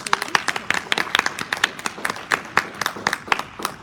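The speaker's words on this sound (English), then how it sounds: "Let's give them a round of applause" A small audience claps for two guests from a speech and debate program in Lander; sparse, uneven individual claps of a modest group, fairly close and moderately loud, with no talk over them.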